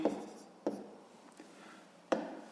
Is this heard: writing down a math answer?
yes